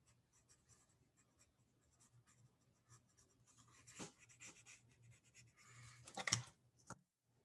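Chisel-shaped graphite pencil scratching across drawing paper close up, soft irregular strokes that build into a brief louder burst of scribbling near the end, with no talking.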